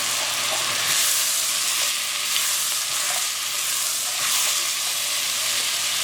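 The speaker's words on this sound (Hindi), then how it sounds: "गोश्त को हमने अच्छा सा इसमें फ्राई करना है।" Mutton fries in a pot with a loud, steady, close sizzle and occasional stirring scrapes, continuous throughout without pauses.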